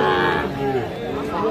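A Sahiwal bull calf at a cattle market lets out a loud, drawn-out moo up close, with faint crowd chatter in the background.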